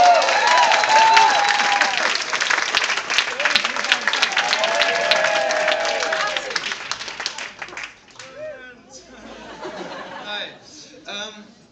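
An audience at a poetry slam gig breaks into loud, dense applause for German slam champion poet Lars Ruppel. The clapping runs steadily for several seconds, then thins into scattered claps, chuckles and crowd chatter.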